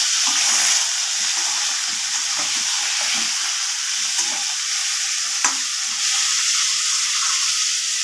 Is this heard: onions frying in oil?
yes